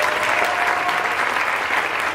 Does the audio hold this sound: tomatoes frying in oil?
no